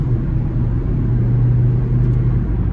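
A 2007 Honda Civic LX with a naturally aspirated 1.8 liter four-cylinder accelerates on the road, heard from inside as a loud, steady engine drone and rumble rising through the revs, with no talk.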